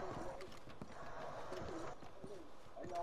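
Horse hooves clip-clop with a neigh in a Western-themed video game, steady and mid-distance beneath ambient game sound and faint talk.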